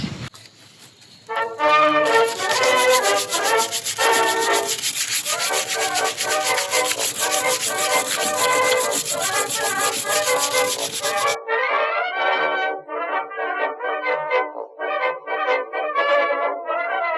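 Stripping old finish off a wooden kitchen island piece makes continuous loud, close scraping and rubbing that runs steady for about ten seconds, then breaks into shorter repeated strokes.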